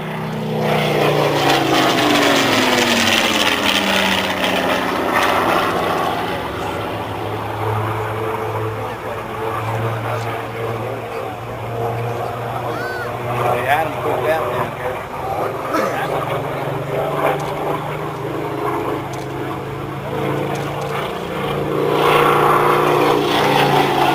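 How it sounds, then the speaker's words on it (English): A Supermarine Spitfire Mk18 warplane flies past at an air show, its piston engine roar rising, sweeping by with shifting pitch and fading, while an announcer talks over it. "Here he comes from the right with the Spitfire Mk18"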